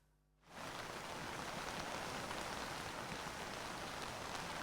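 Heavy rain pours down in Idukki under a red alert, starting abruptly and then holding as a loud, dense, unbroken hiss of drops on surfaces.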